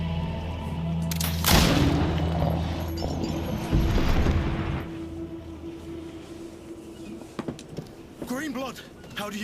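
Gunfire in the fantasy action game GreedFall, a couple of heavy booming shots with rumbling tails and mechanical clatter, followed by quieter ambience and a brief voice near the end.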